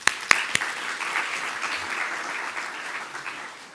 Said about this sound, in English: you can actually give yourself a hand of applause